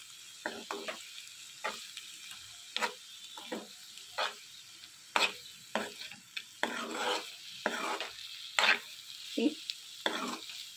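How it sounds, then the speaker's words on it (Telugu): Dried fish curry with chili powder is stirred gently in a pan, with repeated scraping spoon strokes in an irregular rhythm over a soft, continuous sizzle, close and clear. "ఇందులోనే కొద్దిగా కారం కూడా వేసుకొని ఇదంతా బాగా కలుపుకోవాలి."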